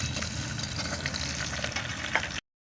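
Tomatoes going into a pan of onion, garlic and curry leaves frying on a wood-fired chulha stove, giving a brief, fairly quiet sizzle and crackle with a few small knocks before it cuts off abruptly.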